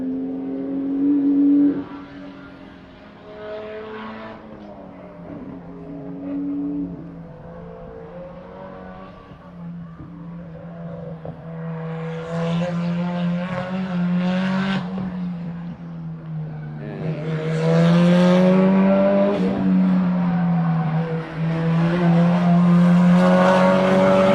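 A race car works through the long S-curve section at NOLA Motorsports Park, its engine droning and shifting pitch as it climbs and eases through the bends, growing louder and closer toward the end.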